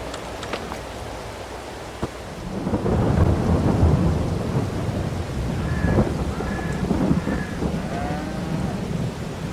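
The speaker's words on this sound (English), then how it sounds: "and then we'll wait out the rain." Thunder and rain from the Farming Simulator 22 game on a Polish farm, a long rolling thunder rumble over steady rain, with cattle mooing several times in the later part.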